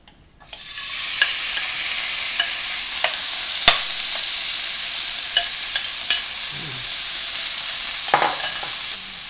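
Chimichurri-coated salmon sizzles in a pan with no added oil, a steady close hiss of frying broken by small pops and crackles, with no voices.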